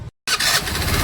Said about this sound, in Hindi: आपको स्टार्ट करके दिखाया जाएगा गाड़ी को।